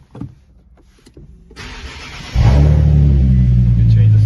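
A Nissan 370Z fitted with a GTR-style push start button cranks briefly and fires up, settling into a loud, steady, close-up idle rumble after a quiet start with faint background sounds.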